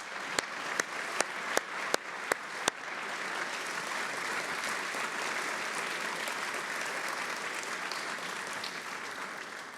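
An audience applauds at a defense forum: a handful of sharp claps ring out first, then swell into sustained, dense applause from the crowd that carries on evenly to the end, with no talking.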